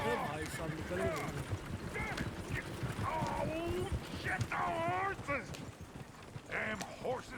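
Horses clip-clop in the Western town of Valentine in the Red Dead Redemption video game, with hoofbeats mixed into dense town ambience and character voices.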